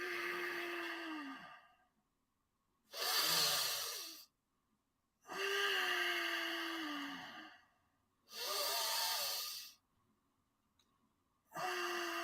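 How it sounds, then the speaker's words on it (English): Slow, deep abdominal breaths in a breathing exercise: long, close inhales and exhales alternate with silent pauses, each breath lasting over a second and heard alone. "Now you've got deep abdominal breathing."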